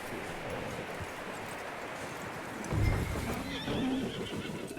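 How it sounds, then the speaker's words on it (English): A horse in the video game Red Dead Redemption 2 neighs and snorts close by over steady outdoor ambience, with a few hoof clops; no one speaks. "That looks like a decent horse."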